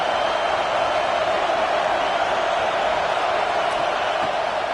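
Sustained roar of a stadium crowd making noise on third down at a football game, a dense, unbroken wall of cheering that holds steady throughout.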